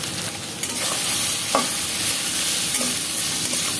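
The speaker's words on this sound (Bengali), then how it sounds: "এইটা একটুখানি আমি ভেজে নিচ্ছি।" Soya chunks sizzle and fry in a wok, a continuous crackling hiss with a few scraping stirs of a spatula, close up and with no talking.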